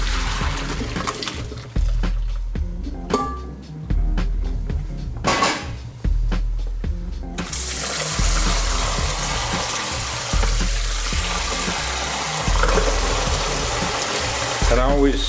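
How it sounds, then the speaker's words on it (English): Cooked rice noodles for a spicy Korean-Chinese seafood soup are drained, water pouring and splashing steadily into a sink for several seconds, with clanks of pots and a voice speaking over the start. "I just cooked the noodles, so let me drain those."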